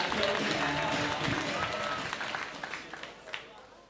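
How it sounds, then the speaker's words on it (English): A crowd at a comedy show claps to welcome the next act, a dense, steady burst of applause that fills the clip and gradually softens toward the end. "Please start clapping for Danny D."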